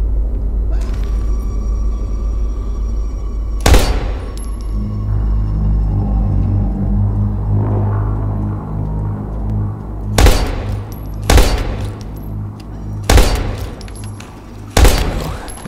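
Gunfire in the survival horror game Daymare 1998, several sharp loud shots spaced apart over a low rumbling ambient drone, the player aiming at a creature's head.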